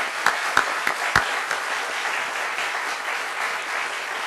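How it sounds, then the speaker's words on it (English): Audience applause for the AMC band at an Army Contracting Command ceremony, opening with a few sharp, loud individual claps before settling into a steady, moderate crowd clapping that continues throughout. "How about we give them a round of applause?"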